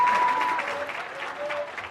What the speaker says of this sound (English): A round of applause to all of us that are here tonight